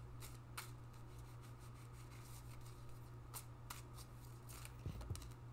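A stack of tarot cards shuffled and drawn, soft riffling and brisk rubbing flicks repeating steadily and close, with a few sharper card snaps near the end over a steady low hum.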